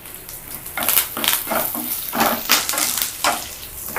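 Curry leaves dropped into hot oil already frying dried red chillies and garlic for a Telugu tomato-coriander chutney, giving a steady sizzle with repeated crackling bursts as the leaves hit the oil.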